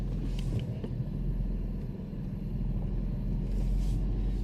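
Low, steady engine rumble and road noise from a cheap Mercedes driven gently on a snowy road, the engine kept at easy throttle with faint knocks and rattles and no voices.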